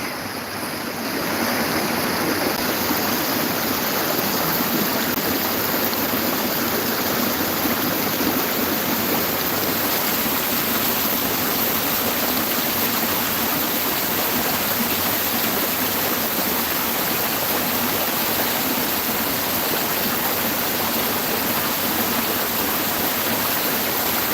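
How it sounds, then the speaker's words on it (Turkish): A waterfall at the edge of the city centre in Ünye, Ordu, running in full spate after rain: a loud, steady, unbroken rush of falling water close by, with no voices. "Şehrin hemen göbeğinde kenarda güzel bir şelale var bu şekilde. Yağmurlardan hemen sonra coşkun bir şekilde akıyor."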